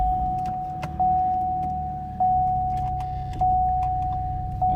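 Interior of a car driving on the way to a high school on a mild day: a steady low road rumble with a constant thin tone and soft thumps recurring about every second, with no talking.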